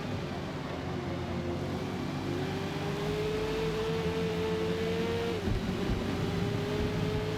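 A Dodge Coronet race car of about 500 horsepower drones through a racing video game at Silverstone, its engine a steady, fairly quiet hum with one rising pitch shift and a brief dip near the end.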